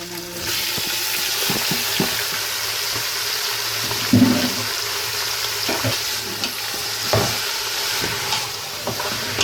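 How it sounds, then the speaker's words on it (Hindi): Beef keema fries in a pot with a steady sizzle and occasional stirring scrapes and clatters, close and continuous with no talk. "अब इसको हम फ्राई करेंगे"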